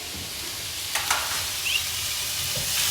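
A pan sizzles as turmeric and salt are stirred in with green chillies, giving a continuous close hiss with a few soft scraping strokes and no talking.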